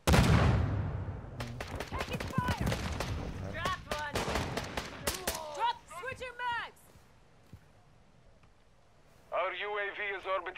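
Rapid bursts of gunfire from a Modern Warfare match crack out loud and close in dense volleys through the first half, then thin to scattered shots, with voices and radio-style chatter heard over the shooting.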